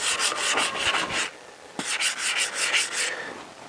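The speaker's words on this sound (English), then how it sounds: "let's give Donald a light rub down" A lacquered motorcycle part from a Honda CBR1000F is lightly rubbed down with minimal pressure, giving steady close scratchy strokes in two bursts separated by a short pause.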